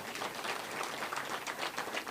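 Audience at a rally applauding, a dense steady patter of many hands clapping at once, moderately loud and continuous throughout.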